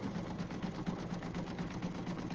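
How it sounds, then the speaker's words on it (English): Embroidery machine satin stitching, a quiet, fast, regular mechanical chatter of the needle, repeating steadily and heard alone. "watching my machine sew"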